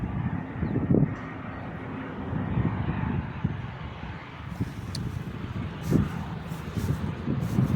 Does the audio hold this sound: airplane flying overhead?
yes